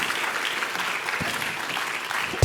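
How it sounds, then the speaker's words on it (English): A conference audience applauds panelists after a panel discussion, a steady wash of clapping from a full room, moderately loud, with no talk. "another round of applause"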